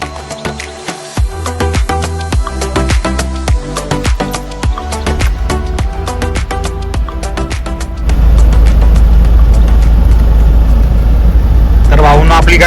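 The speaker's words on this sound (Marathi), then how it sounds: "आपली गाडी चालू झाली आहे" A goods truck's engine cranks and fires, then settles into a loud, steady, low-pitched running rumble that grows heavier partway through, with a rattling clatter over the early part.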